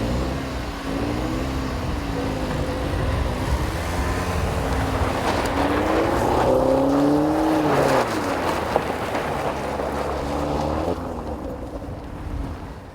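Engine of a 2014 Chevy Sonic Turbo heard from inside while driving through hills, a steady droning hum that rises and falls in pitch with the revs, then eases off near the end.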